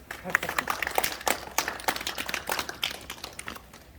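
A crowd applauds at a March 1st Independence Movement memorial ceremony, giving about four seconds of steady, scattered clapping at moderate loudness with a few louder claps.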